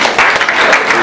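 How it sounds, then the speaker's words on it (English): Applause for a guest arriving at a Nigerian health workers' conference, a dense, steady clapping from a crowd that fills the whole short moment, fairly loud and close. "A round of applause"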